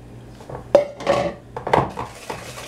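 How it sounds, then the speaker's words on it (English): A utensil scrapes and clacks against a bowl as cake batter with cooking oil is stirred for a carrot pineapple chunk cake, giving irregular close knocks and swishes in quick bursts. "and just keep stirring."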